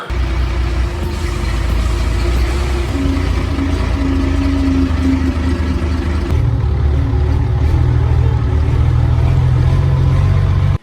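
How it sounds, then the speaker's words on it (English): Tractor engine running outside a workshop, a continuous low rumbling drone with a steady idle, shifting slightly in pitch partway through, close and loud with no talk. "Now that the tractor's gone outside"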